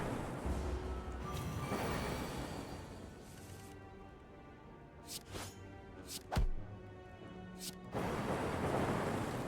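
Lightning effects crackle in the Slay the Spire card game, several sharp zaps and crashes in the middle over a rumbling storm-like game soundtrack, loud and close.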